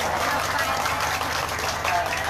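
Dense applause from a gathered crowd at a local event in Pamekasan, a continuous loud patter of many hands with a low steady hum beneath.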